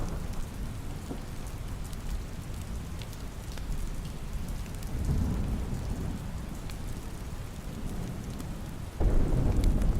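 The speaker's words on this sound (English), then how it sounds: "The sound of raindrops tapping against rooftops" Steady, loud rain pours onto rooftops in a thunderstorm, with low thunder rumbling underneath and a sudden heavier burst of rain near the end, no voices present.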